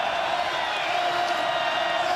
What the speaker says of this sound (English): You got to give credit to Bobcat Stadium. It is loud, it is raucous here right now